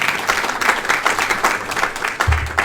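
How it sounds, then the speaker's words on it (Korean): An audience claps in welcome for a speaker introduced at a Korean missions conference, steady dense applause filling the room, close and even, with a low thump near the end. "우리 박수로 환영하겠습니다."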